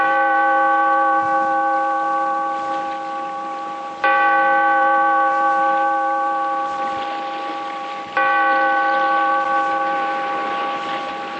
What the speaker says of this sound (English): Bellkeeper, toll the bell, so that all may know we are gathered again